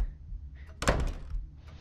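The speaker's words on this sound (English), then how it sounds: "I'm good at opening doors." A door opens in Paranormal Activity VR, a single sharp thunk of the handle and door near the listener, short and fairly quiet amid low room ambience.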